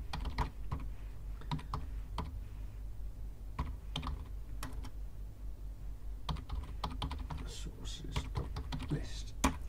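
Rapid typing on a computer keyboard while a file is edited in a terminal during a Kodi 18 upgrade, with steady clusters of clicking keystrokes close up throughout.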